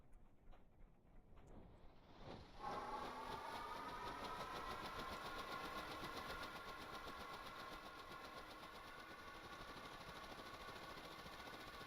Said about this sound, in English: Alright, engine is running.